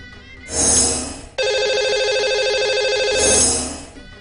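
A telephone rings as a call goes out to a caller on a Hindi radio show, with a bright, continuous electronic ringing tone that swells, holds steadily for a few seconds and then fades.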